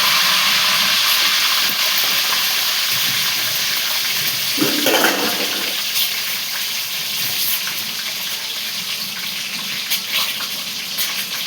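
Eggs dropped into a hot pan fry with a constant bright sizzle and crackle, a brief louder burst of spattering partway through, and no voices.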